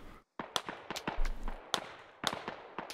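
Gunfire in the video game Squad: a string of sharp, irregular cracks, several close and punchy and others thinner and farther off, spread across a few seconds with short gaps between them, with no voices.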